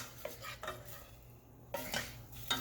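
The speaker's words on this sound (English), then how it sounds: "And just kind of stir those around. I got it on a medium to medium high heat." Onions stirred in a pan over medium-high heat, with utensil scrapes and clinks against the pan coming in a few short bursts over a faint steady sizzle, close up and with no talking.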